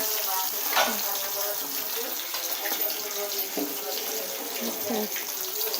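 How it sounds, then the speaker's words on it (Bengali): A steady, dense hiss of fish frying in hot oil, with faint crackles and soft pops throughout. "মাছ ভাজা হচ্ছে"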